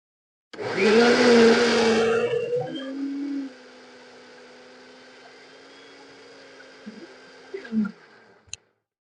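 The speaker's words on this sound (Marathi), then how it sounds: "हे मिक्सरच्या भांड्यात टाकलंय आता फिरवून घेणार आहे" Mixer grinder jar spinning plain room-temperature water for homemade ghee, a loud whirring roar for about three seconds that cuts off, followed by a faint lingering hum and a few soft clinks.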